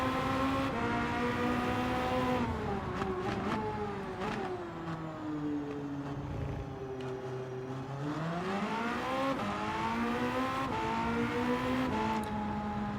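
Hypercar engine in Gran Turismo 7 revving with a raspy, steady drone whose pitch dips and rises through gear changes, loud and close throughout with no talking.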